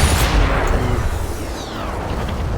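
A single loud sniper rifle shot from the World War II shooter Sniper Elite 4 cracks near and heavy at the start, then a long, low rumbling echo fades away with no talking.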